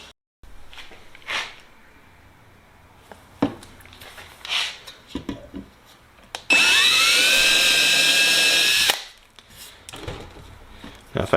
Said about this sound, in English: So I'll go ahead and drill from the other side now.